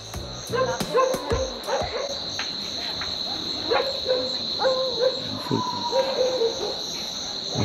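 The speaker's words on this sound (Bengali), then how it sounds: "পারলে কানে হেডফোন দিয়ে শোন, ঝিঝি পোকা ডাকা খুব সুন্দর লাগে।" Steady high-pitched chorus of crickets trilling throughout, with occasional low hoots and a distant dog barking in the night background.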